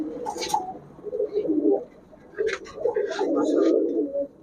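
Pair of red Giribaz high-flyer pigeons, a male and a female, cooing in low rolling phrases at close range, with a few sharper higher sounds between the calls.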